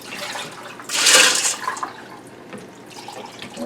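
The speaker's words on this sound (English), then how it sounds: "So I have a pitcher of water here to rinse everything into the bucket." Water poured from a pitcher to rinse tumbled rock grit into a bucket: one brief, loud splashing pour lasting about half a second, then a quieter trickle and drip with faint background noise.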